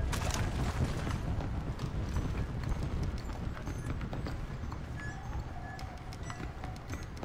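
Horse hooves clip-clop steadily in Red Dead Redemption: Undead Nightmare, a continuous rapid patter of game hoofbeats over a rumbling ambient bed, fairly quiet and without talk.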